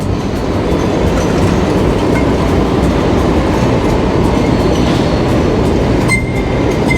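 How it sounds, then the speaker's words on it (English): An above-ground mainline train on Sydney's City Circle route rumbles past steadily and loudly, with wheels clattering on the rails and a faint squeal near the end. "There goes the mainline train on the city circle route."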